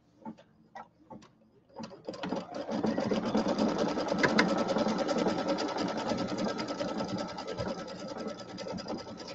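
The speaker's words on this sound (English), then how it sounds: "it's going to sew the stippling around this one" A sewing machine stitches a stippling pattern on a quilt, starting with a few clicks and thumps before settling into a steady, fast mechanical whirr and rapid needle rattle, close and loud, with no talk.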